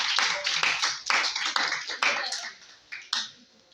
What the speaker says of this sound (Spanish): denle un aplauso a Melissa entonces